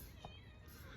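A female cat gives a short, quiet meow indoors near the door, heard close but faint against low background noise in a garage workshop setting.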